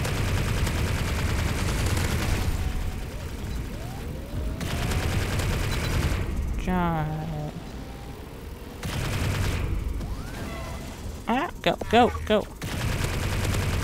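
Gunfire in the video game Assault Bots, heard as sustained dense automatic fire in long rapid bursts that continue through most of the clip, with a few short pauses and brief voices.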